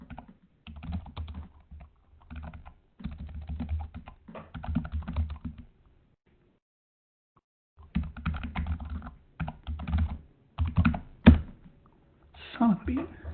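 Azure command typed on a computer keyboard: bursts of close, crisp key clicks with pauses between, and someone talks in between.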